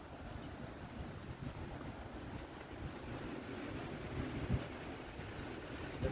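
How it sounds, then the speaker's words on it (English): Steady wind buffets the microphone with broad rushing noise and low gusty thumps, constant throughout with no voices. "It's very windy out here."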